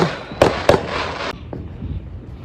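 Fourth of July fireworks go off outdoors, with two or three sharp crackling bursts close together followed by fainter pops and rumbling in the distance.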